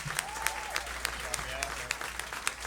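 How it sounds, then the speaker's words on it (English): Applause from the audience at Crooners for the live band, moderately quiet, with scattered sharper claps and faint voices mixed in. "let's give it up for the whole band"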